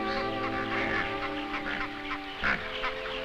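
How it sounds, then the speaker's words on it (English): Egyptian geese honk a few times over a steady background, with one louder call standing out near the end. "2 Egyptian geese, convoying their young, move carefully through the crocodile-infested waters."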